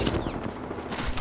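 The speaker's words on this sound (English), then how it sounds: "I am taking fire, friends." Rapid gunfire in the video game Apex Legends, a loud, dense burst of shots with a short whistling streak partway through, continuous across the whole moment.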